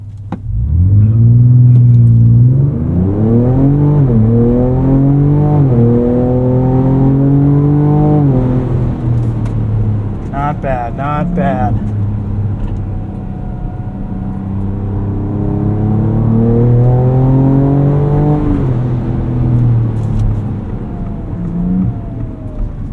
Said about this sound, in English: Real quick, let's do one more 0 to 60. We'll brake torque this one.